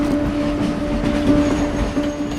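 Train rolling past on a railway track right beside slum houses, a loud close steady rumble with clattering wheels and a sustained tonal hum from the passing cars.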